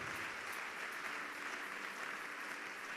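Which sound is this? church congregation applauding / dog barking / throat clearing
church congregation applauding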